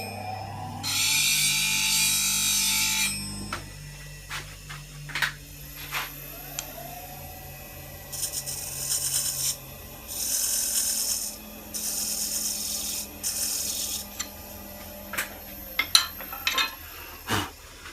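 A negative rake scraper cleans the inside of a wood-turned box on the lathe, giving a long rasping scrape followed by shorter intermittent scraping bursts and light knocks, fairly close and with no talking.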